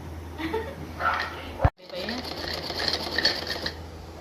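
A sewing machine stitches the outer side seam of a pajama, running in two quick bursts of rapid mechanical clatter split by a short pause, close and moderately loud.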